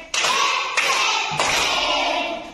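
Hands clap three times at a steady rhythm in a children's English action rhyme, each clap crisp and close, with no talking in between.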